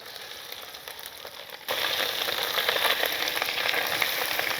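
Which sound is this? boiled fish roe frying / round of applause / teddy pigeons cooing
boiled fish roe frying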